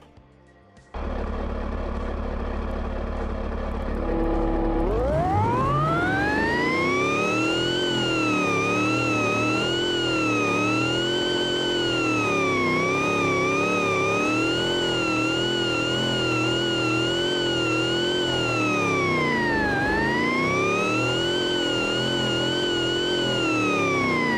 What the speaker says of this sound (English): we have a Supercharger WHINE now in automation